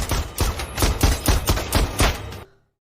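Gunfire in a film scene: a rapid series of about eight loud, close shots in an even rhythm, ending abruptly in silence.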